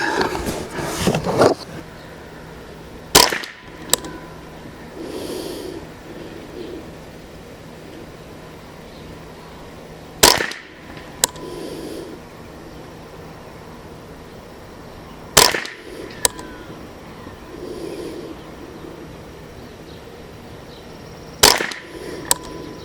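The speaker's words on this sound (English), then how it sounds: "I'll add them up once I get done shooting the groups here." Four sharp .22LR rifle shots fired at target groups on a range, spaced several seconds apart with quiet pauses between, each a crisp crack with a short tail, plus a couple of faint clicks.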